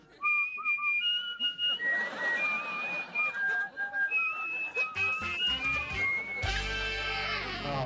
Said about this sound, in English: Come on, everyone, whistle with me.